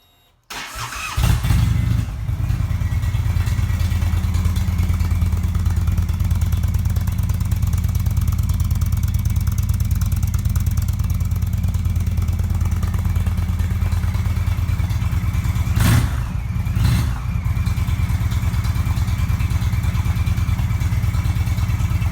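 A 2017 Indian Roadmaster motorcycle fitted with custom headers cranks and fires, then settles into a loud, steady, deep idle close by, with a couple of brief throttle blips near the end.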